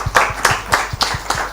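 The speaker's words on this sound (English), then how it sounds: "Let's give a round of applause to Arna." A few people clapping at a conference session, sparse evenly spaced claps about every third of a second, close and fairly loud.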